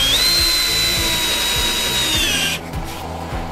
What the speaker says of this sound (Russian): прикрепите их к царгам с помощью саморезов из комплекта фурнитуры